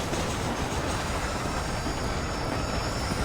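A train passing in the video game Red Dead Redemption, a continuous loud broadband rumble of rolling wagons with faint wheel squeal, steady and close for the whole stretch with no talk.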